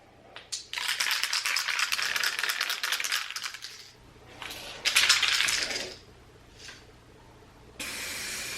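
Two-part clear coat paint for a 2017 Kia Forte rebuild being mixed: close, loud rattling comes in several bursts separated by short pauses, followed by a brief broader noise at the end.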